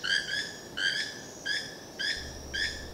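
A keel-billed toucan in Costa Rica calls in a series of five evenly spaced, croaking notes with a harsh, ringing tone, fairly close and clear over a quiet background.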